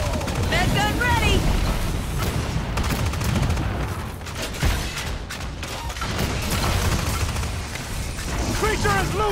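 Heavy sustained gunfire aimed at a Meteor Goliath monster in the Evolve video game, a dense continuous fusillade with booming impacts throughout, with voices briefly calling out over the barrage.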